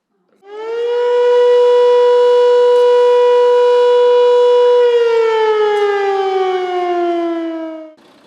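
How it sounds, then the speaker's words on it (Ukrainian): An air raid siren wails from the town hall tower in Terebovlia, Ukraine, loud and sustained, holding a steady pitch and then slowly falling as it winds down. "з вежі Теребовлянської ратуші було чути лише звук повітряної тривоги"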